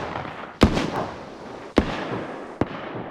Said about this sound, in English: This includes the BK-12 single barrel shotgun,